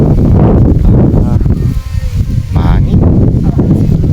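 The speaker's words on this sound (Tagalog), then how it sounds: "Mahangin." Gusty wind blows across an open duck-hunting spot, buffeting the microphone with a constant low roar while people talk over it.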